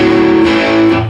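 A short burst of distorted electric guitar chords rings out loud and sustained, the notes left open rather than damped.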